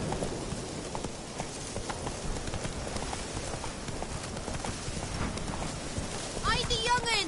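Roach, Geralt's horse in The Witcher video game, trots with steady clip-clopping hooves throughout, close and even, with a voice speaking briefly near the end.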